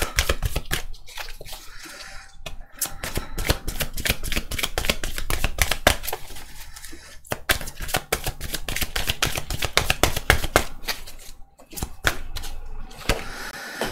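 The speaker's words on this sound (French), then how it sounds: "Je tire les cartes avant et on analyse ensuite." Tarot cards being drawn and shuffled during a couple's reading: dense, rapid papery riffles and flicks run steadily throughout, close and fairly loud, with brief pauses between bursts and no talking.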